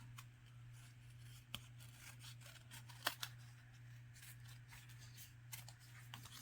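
Scissors snip through paper in a few quiet, separate cuts, close by with a low steady hum underneath and no voices.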